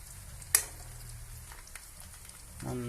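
Herbal oil boiling and frothing in a pan gives a low, steady bubbling sizzle with a sharp pop early on and a few softer crackles, swelling slightly louder toward the end.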